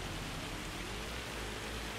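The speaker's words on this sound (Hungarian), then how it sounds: "Még az esőcsöppek kicsit ilyen jégeső beütése van, vagy nem tudom, hogy jégeső esik?" Steady rain in Farming Simulator 25, an even, dense hiss of falling drops with no gaps or variation, soft and uninterrupted throughout.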